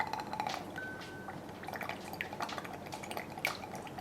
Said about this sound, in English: 2 ounces of the blueberry syrup.